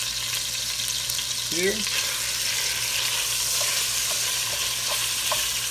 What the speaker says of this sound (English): Pound of ground meat there. We're going to get this all browned off